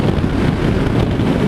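Wind buffeting while riding a Zero S electric motorcycle with no fairing at about 50 mph: a loud, steady roar of rushing air against the microphone, with no voices.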